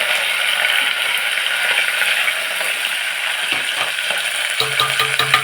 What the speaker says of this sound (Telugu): ఇప్పుడు ఎండుమిరపకాయలు జీలకర్ర ఆవాలు వేస్తాను